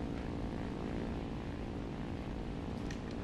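In the War Thunder flight simulator game, a propeller aircraft's engine drones loudly and steadily at full power during takeoff from an airfield, a constant thick roar with no voices.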